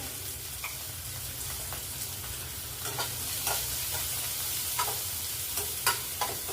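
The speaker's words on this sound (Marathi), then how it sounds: "लसण थोडासा झाला की आपण त्याच्यामध्ये कांदा घालून घेणार आहोत" Onion and garlic fry in a pan over medium heat, giving a steady close sizzle with scattered spoon-stirring clicks and scrapes throughout, no voices.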